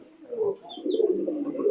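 Pigeons coo in low, throaty rolling calls at a busy pigeon market in Khalishpur, Khulna, with a faint higher chirp or two nearby and a continuous murmur behind.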